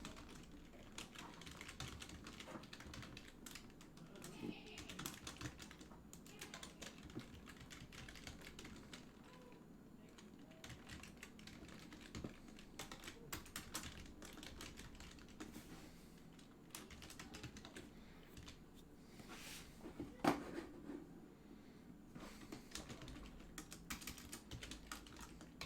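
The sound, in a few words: typing on a computer keyboard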